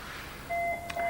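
Electronic alert beeps from a tele-message printer, two steady tones starting midway through against a quiet room background, close and clear with no talking.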